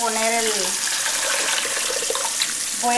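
Tap water runs steadily into a kitchen sink as dried beans are rinsed, a constant close splashing hiss with a voice speaking briefly at the start and end.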